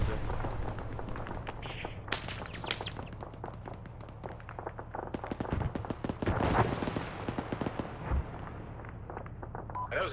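Indirect-fire explosions and airburst blasts in an Arma 3 infantry exercise, heard as a dense run of sharp booms and cracks at varied distances over a steady low rumble, with radio chatter mixed in.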